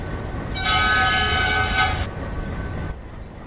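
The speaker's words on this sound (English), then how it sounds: "So right now the engine number 11336 just rescue the Memu going towards for Trishur." A WDM3D diesel locomotive in the Railworks 3 train simulator sounds a loud, sustained horn blast for about a second and a half over a low rumbling engine, then a shorter quieter tone follows before the engine drone continues alone.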